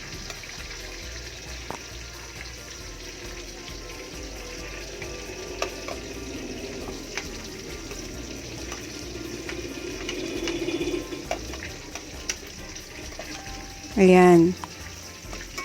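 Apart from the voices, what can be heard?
garlic and onion sautéing in hot oil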